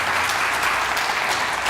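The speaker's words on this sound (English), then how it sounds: "I know everybody wants to give Dianne a round of applause" Audience applause for Dianne at a college president's State of the College address, a dense, even burst of clapping from a large crowd, close and loud across the whole short moment.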